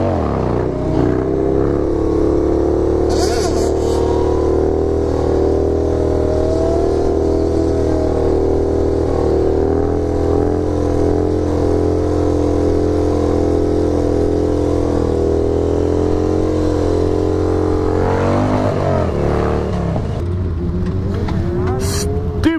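Harley-Davidson motorcycle engine idling nearby with a steady, loud, deep rumbling throb, a brief rev near the end, and someone talking over it at times.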